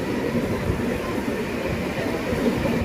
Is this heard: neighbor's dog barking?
no